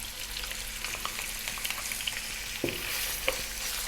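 Lamb pieces and onion frying in a pan just above medium heat, a steady close sizzle with occasional stirring scrapes and small pops throughout.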